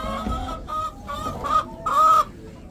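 Several chickens cluck and squawk in short bursts during an arctic storm, close by, the calls growing louder toward the end before stopping.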